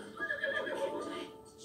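A horse in The Legend of Zelda: Breath of the Wild whinnies in a shrill, wavering neigh that trails off over a second or so, with faint background noise.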